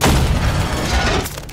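A missile blast in a Portal match with friends: a loud, sustained low-end boom that rumbles for over a second before tapering off, with no talk over it.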